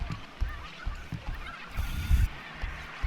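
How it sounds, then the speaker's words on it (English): A turkey-like bird in the horror video game Observer gives repeated low, rough honking calls, several bursts spaced irregularly over a few seconds, fairly faint and distant with a louder cluster near the end. "It sounds like I'm being chased by demonic turkeys."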